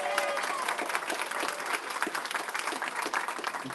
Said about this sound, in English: Another round of applause for our students from Oakland High School Jazz Combo